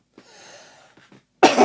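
A single harsh cough bursts out loud and close at the end, after a stretch of faint breathy noise and a couple of soft throat sounds in a quiet room.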